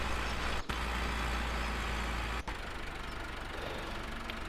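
Tractor engines in Farming Simulator 17 hum at a steady idle, a constant low drone with two brief dropouts, close and even, with no voices.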